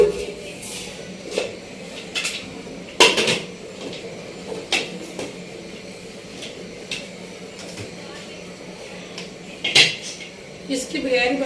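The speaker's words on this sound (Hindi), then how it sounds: "कुकर को बंद कर दूंगी।" Metal clanks and clatters as a pressure cooker lid is set on and closed over dal and pumpkin, several sharp knocks spaced irregularly over quiet village kitchen background.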